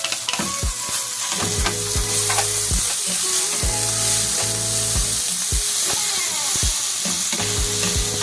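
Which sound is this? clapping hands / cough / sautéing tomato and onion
sautéing tomato and onion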